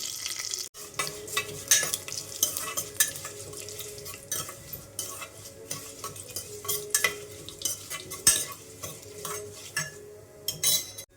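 Cardamom, cashews and cumin fry in a pan for tomato bath, a steady soft sizzle under repeated stirring and scraping clicks of a spoon against the pan, with no talking.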